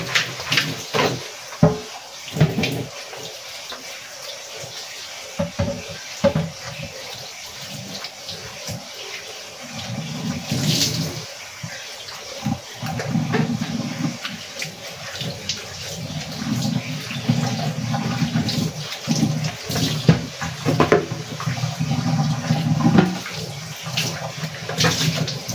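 Water runs from a tap into a container at home, a close, uneven splashing and gushing that grows fuller and steadier over time, with some knocks and clatter mixed in.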